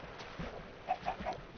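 Chickens cluck in Minecraft with a few soft, short clucks at a distance over faint game ambience.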